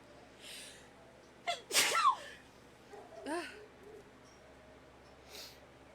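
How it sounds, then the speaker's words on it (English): A single sharp sneeze with a quick intake of breath before it, close to the microphone, followed by faint murmuring in a quiet room. "I have to sneeze."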